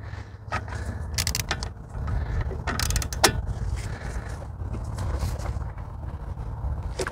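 A power tool spins off 17 mm brake bolts during a Ford Flex brake job, heard as a steady low mechanical rumble with creaking and clanking bursts close by, with no talking.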